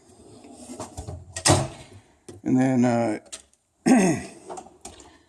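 A drawer slides open on a teal Snap-on toolbox loaded with tools, giving a short metallic rattle and clunk between brief bursts of someone talking nearby.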